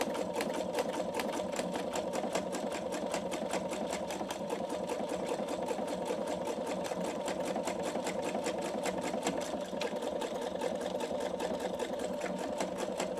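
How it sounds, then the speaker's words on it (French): A PFAFF Expression 720 sewing machine stitches a pouch, its needle tapping in a fast, even rhythm over a steady motor whir, close up and sustained throughout. "vous voyez que la machine passe vraiment plusieurs fois pour faire le point"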